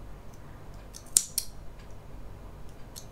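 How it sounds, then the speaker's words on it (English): A single pair of scissors makes one or two quick, close snips through the leftover yarn tail of a crocheted rose petal, with otherwise quiet surroundings. "now I can cut the excess tail"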